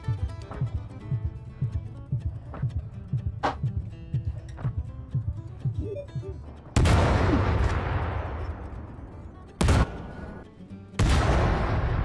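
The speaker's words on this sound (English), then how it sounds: "That's me breaking rocks." Rocks are broken in the video game Astroneer, with loud, harsh, gunshot-like bursts of crumbling noise. A long blast is followed by two shorter ones, after a quieter stretch of light rhythmic clicks and thuds.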